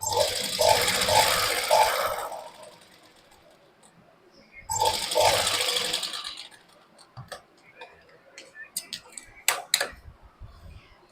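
A sewing machine stitches salwar fabric in two steady whirring runs of about two seconds each, followed by quieter clicks and taps of handling the cloth.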